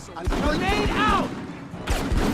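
Heavy gunfire in an Original Xbox game demo, rapid close shots and thuds in a quick rhythm, mixed with battle effects and voices talking over them.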